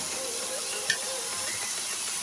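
Carrots, beans and chopped green chilli sizzle in hot oil for spring roll filling, a steady close hiss with a small clink partway through.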